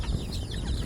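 Chickens clucking at feeding time on a backyard farm after a mix of Bio 3 and concentrate feed is scattered, a steady low flock murmur with soft overlapping clucks close by.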